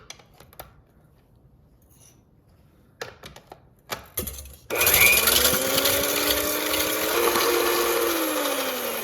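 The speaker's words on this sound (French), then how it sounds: "Pour ce faire, montez en neige 3 blancs d'œufs." An electric mixer whisks three egg whites toward stiff peaks, starting after a few clinks and taps, then running as a loud, close, steady whirr with a shifting pitch, no talk.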